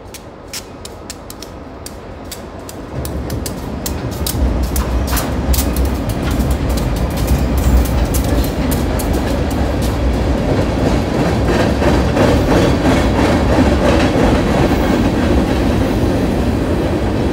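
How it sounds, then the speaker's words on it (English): Cincinnati Eastern Railroad rock train on a short line, heard approaching and then passing close by with a loud, steady rumble and rhythmic clickety-clack of wheels on rail joints, with no talk. "Train's coming from that way. Be here in just a minute."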